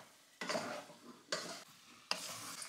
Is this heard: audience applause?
no